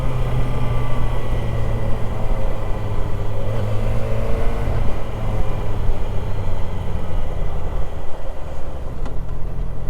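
A Yamaha FZ6R motorcycle engine pulls hard at full throttle in second gear, a steady loud droning roar with rising harmonics that holds close and continuous throughout.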